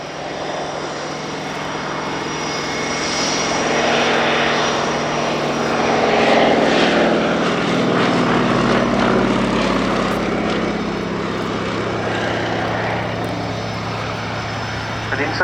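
A Fairey Swordfish biplane flies past at the Yeovilton airshow, its propeller engine a loud, continuous drone that swells and fades with the pass, while someone talks over it on a public address.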